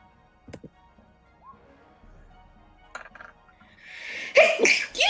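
A single sharp sneeze bursts out near the end of a quiet stretch at a tabletop role-playing dice game, loud and close after faint clicks and table noise.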